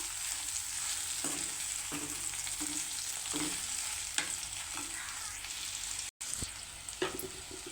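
A broad bean and tomato curry fries in a pan as a spoon stirs it, giving a soft continuous sizzle broken by regular scraping strokes about every second, close and fairly quiet, with no talking.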